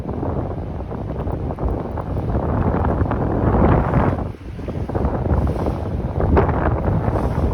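Blustery wind roars across the microphone outdoors on a downtown Toronto street during snow flurries, a loud, continuous rumble with gusts rising and falling and no voices.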